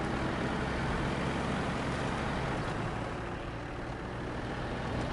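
A military truck engine in the off-road driving game Snowrunner drones in a steady, loud, continuous rumble throughout, with no talk over it.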